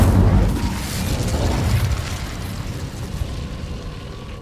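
A fire spell cast in Hogwarts Legacy bursts out loud and close at the start with a deep whooshing roar, then settles into a sustained rumbling crackle that slowly fades.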